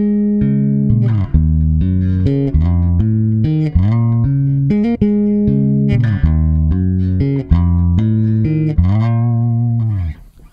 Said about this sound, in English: This particular pedal is the EBS Unichorus, and it sounds a little something like this.